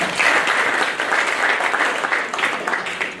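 Conference audience applauding two presenters at an annual Hansard association gathering in Kenya, a dense, loud wash of clapping that holds steady throughout.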